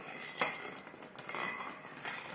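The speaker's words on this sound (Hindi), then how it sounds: "अब सलसल चम्मच हिलाते रहे ताकि नीचे ना लगे" Metal spoon scraping and clinking against a cooking pot while stirring thickening suji halwa, a few sharp scrapes over a continuous soft stirring rasp, close and fairly quiet.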